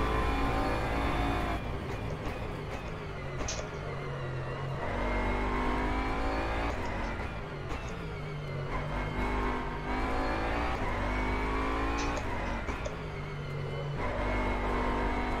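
Racing engine of a 2020 Bentley Continental GT3 in the rFactor 2 sim, a steady loud drone with repeated rising revs and gear changes, held near and continuous throughout with no talk.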